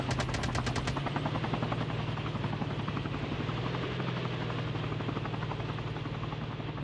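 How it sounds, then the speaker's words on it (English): In Call of Duty: Mobile, a helicopter chases a vehicle with shots traded between them: steady loud rotor drone throughout, with rapid bursts of machine-gun fire crackling mostly in the opening second and scattered after. "Looks like a helicopter chasing the vehicle. Shots between the two."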